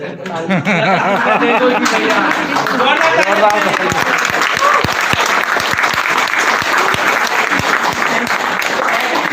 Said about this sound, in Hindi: तो बीच बीच में ताली भी बजाना जरूरी है